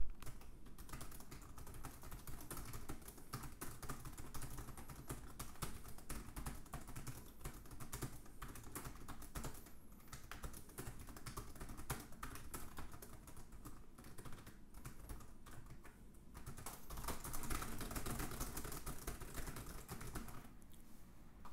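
Typing on the keyboard of a Jumper EZBook 2 laptop, a continuous stream of soft, rapid key clicks at close range, steady throughout with no voices.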